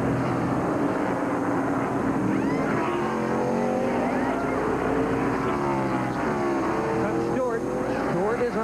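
Stock cars at a 1999 Winston Cup race roar along pit road, a loud sustained engine drone with rising and falling pitch sweeps as cars pass, under continuous commentator talk.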